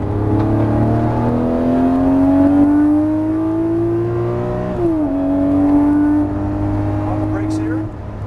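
A Lamborghini Murciélago engine accelerates hard out of a corner on the Las Vegas Motor Speedway track, its pitch climbing steadily, dipping briefly at a gear change, then rising again, loud and close throughout.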